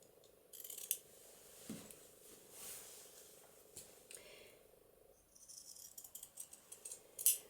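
Scissors snip through a fat quarter of cotton fabric in a quiet papercraft session, giving faint, scattered crunching cuts at irregular intervals against a soft background hum.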